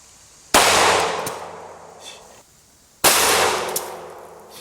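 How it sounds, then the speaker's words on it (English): Two sharp, loud 9mm gunshots crack a few seconds apart at a mounted Kevlar helmet, each blast striking hard and ringing out in a metallic decay. "we're going to test this piece of Kevlar helmet, and we've got it mounted. We're going to shoot it with 9mm."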